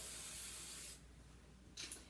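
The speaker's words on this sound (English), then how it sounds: "I'm going to take a little spray." Hair spray hisses from an aerosol can in a steady, close burst lasting about a second, followed by a quieter pause and then a second short spray.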